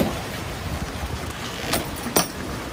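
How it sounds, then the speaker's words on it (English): A strong storm wind buffets the microphone near the water at Bayview, with a steady roaring rush and two sharper gusts cracking through toward the end. "Today's storm also brought plenty of wind."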